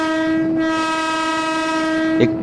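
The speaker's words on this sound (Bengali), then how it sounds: "চেয়ারে স্পেশাল ট্রেন বড় গোপীনাথপুর স্টেশনের মধ্যে প্রবেশ করেছে দেখুন" A special train pulling into Boro Gopinathpur station on an inaugural day sounds a loud, sustained horn close by, steady for the whole stretch.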